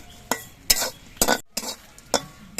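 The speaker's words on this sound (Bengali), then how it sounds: "লঙ্কাগুলো কিছুক্ষণ নাড়াচাড়া করে ভেজে নিয়েছি" Dried red chillies frying and being stirred in a pan for a fish curry, with a soft sizzle broken by about six distinct scraping strokes of a spoon against the pan, close up and with no talking.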